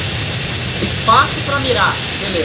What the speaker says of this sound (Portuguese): nossa, mano, o barulho desse avião também é muito chato